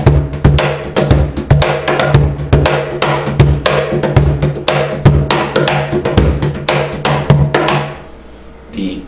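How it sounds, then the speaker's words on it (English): A cajon struck with a mix of deep bass tones and sharp slaps, a steady, fast rhythmic pattern of close, punchy hits that stops near the end, leaving a faint ringing tail. "The combination of the bass frequency and the slap or high tone sounds like this."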